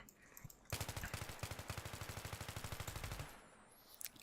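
An M4A1 rifle in Battlefield 3 fired at medium range, a rapid string of about thirty loud, evenly spaced gunshots lasting a couple of seconds, preceded by quiet shuffling and followed by a faint ringing tail.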